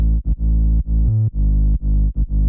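Distorted sub bass for a future bounce track in FL Studio, processed with distortion, OTT multiband compression, a soundizer and an EQ cutting the highs: loud, sustained buzzing low notes with short gaps between repeated hits.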